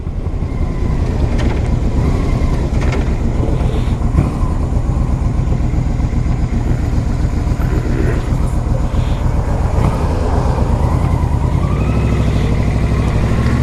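Steady engine rumble of a 2006 Yamaha Royal Star Deluxe cruiser motorcycle on a test ride, loud and continuous with slight shifts in pitch, wind and road noise mixed in, no talking.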